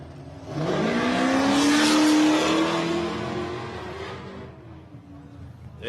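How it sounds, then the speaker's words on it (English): A race truck at the SCORE San Felipe 250 desert race in Baja roars loudly off the line, engine revving hard with a rising whine as it spins its tires, then the sound eases slightly as it pulls away. "Lofton's smoking off those tires as he heads his way out"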